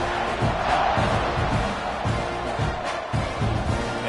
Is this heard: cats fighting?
no